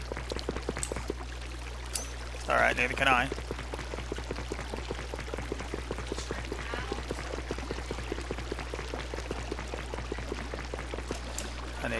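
Water flowing in Minecraft with the Botania modpack, a soft steady trickling wash beneath a game's background hum, with someone talking over it and a brief burst of another sound partway through.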